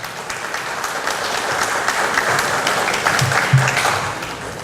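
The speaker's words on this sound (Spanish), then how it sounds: "Yo quisiera darle un fuerte aplauso al ingeniero Shimomura" A crowd at an event for the national day of persons with disabilities applauds engineer Shimomura with a steady, fairly dense round of clapping from close by, and a few low bumps sound in the room under it.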